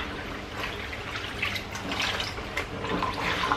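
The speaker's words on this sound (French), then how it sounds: "Le rinçage va me permettre d'enlever l'eau savonneuse des tissus" Tap water runs into a sink as hand-washed laundry is rinsed, a steady close splashing and trickling with small surges as the fabric is moved through the stream.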